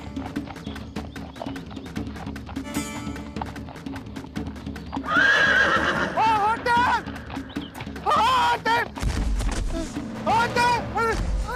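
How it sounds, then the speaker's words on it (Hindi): Horses whinnying loudly several times over a steady clip-clop of hooves, with dramatic background music and a loud low thud partway through. "हमारा घोड़ा उसे लेकर आ रहा है।"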